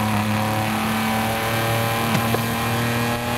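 A BMW E36 engine in Forza Horizon 5 hums loud and steady at a held rev, a constant close drone with a small blip partway through and no one speaking.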